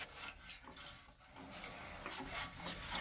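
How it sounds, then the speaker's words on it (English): A brush scrubs hard against the walls of a toilet bowl stained with rust and minerals from well water, a close, continuous rough rasping with uneven strokes and no talk. "Just scrub all your walls down."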